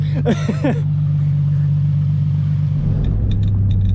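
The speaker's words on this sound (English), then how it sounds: "just letting the car warm up" A Nissan 350Z idles while warming up in a parking lot, a constant loud, low engine drone that drops slightly in pitch partway through, with a brief squeal near the start and faint chirps late on.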